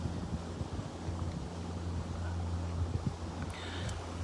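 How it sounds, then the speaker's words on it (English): Wind blowing across an open fishing lake, a steady low rumble of wind buffeting the microphone throughout, with faint background noise. "Obviously he's got the wind coming at his face"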